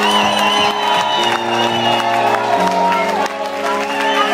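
An audience at a live Bulgarian rock concert applauds and cheers for the drummer, loud and sustained, with whoops over sustained stage tones and a voice booming through the PA.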